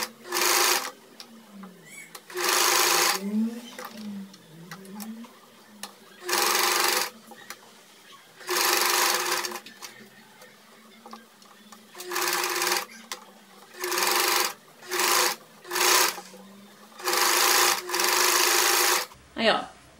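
A sewing machine stitching a blouse with collar detail and triple sleeves runs in about a dozen short, loud whirring bursts separated by quiet pauses, with a voice speaking between them.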